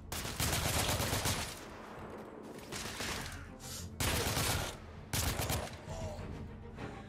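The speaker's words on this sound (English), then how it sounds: "I'm taking heavy fire." Gunfire in the video game The Order: 1886, several loud bursts of rapid shots separated by short lulls, close and dense, with no voices.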